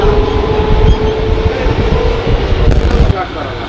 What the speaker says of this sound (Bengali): কোন্নগর থেকে আমাদের ট্রেন এখন ছাড়লো।